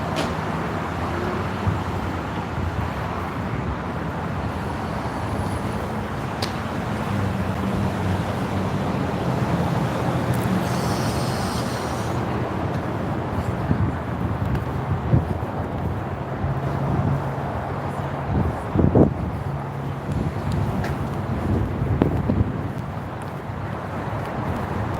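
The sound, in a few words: dry desiccating wind blowing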